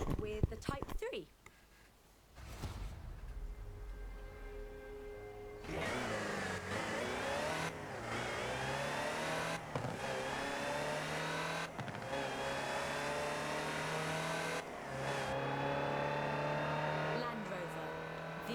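A Land Rover Type 3 utility vehicle in Forza Horizon 4 revs and accelerates through repeated gear changes, the engine note climbing and dropping in steps, loud and close, with a voice talking over parts of it.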